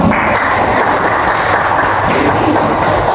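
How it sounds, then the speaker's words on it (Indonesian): A classroom of students during a guidance lesson gives a short, loud burst of dense clapping that stays steady throughout. "Kita kasih tepuk tangan"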